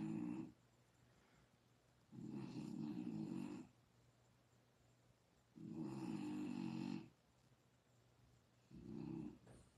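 Person snoring in slow, loud, regular breaths, four long rasping snores separated by quiet pauses of a second or two.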